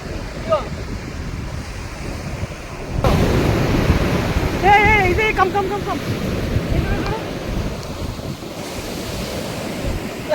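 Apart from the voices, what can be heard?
ocean waves crashing at Kakinada beach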